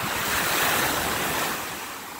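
Pacific Ocean waves roll onto an Oahu beach, a broad continuous roar of surf with wind buffeting the microphone, swelling then easing slightly toward the end.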